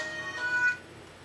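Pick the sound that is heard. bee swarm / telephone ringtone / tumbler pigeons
telephone ringtone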